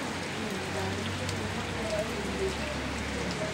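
Rain falls on potted cactus plants, a steady dense patter of drops on surfaces with a faint low hum underneath.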